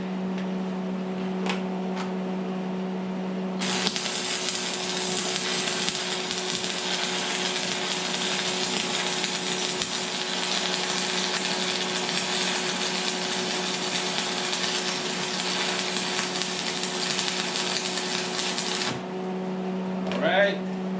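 Welding an anti-theft chain onto a Columbia Extreme Auger 13 hp 33-inch snow blower, a steady loud crackling hiss that runs unbroken for about fifteen seconds over a low electrical hum, with quiet before and after.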